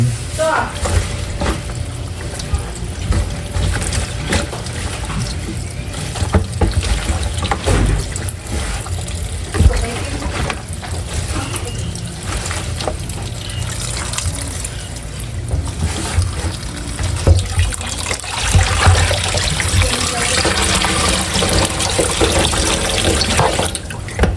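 Running tap water pours steadily over water spinach (kangkong) being washed in a kitchen sink, a continuous rushing splash with handling noises throughout.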